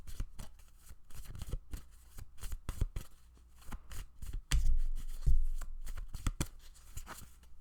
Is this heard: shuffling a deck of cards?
yes